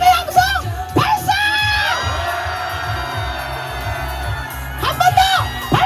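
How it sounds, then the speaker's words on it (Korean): A large outdoor crowd at a political rally in South Korea's Gyeongnam region erupts in loud, sustained cheering and joyful shouting, with whoops rising at the start and again near the end. "네, 기쁨의 함성 발사!"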